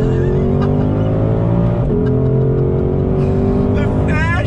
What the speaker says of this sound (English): On throttle, here we go.